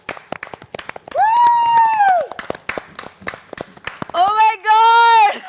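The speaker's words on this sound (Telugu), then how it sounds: "క్లాప్స్. చేసేటప్పుడు క్లాప్." Housemates clap in quick sharp bursts on a reality-show set as a new mega chief is named, the claps scattered and uneven while voices call out and cheer in long sustained shouts over them.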